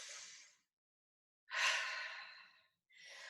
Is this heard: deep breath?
yes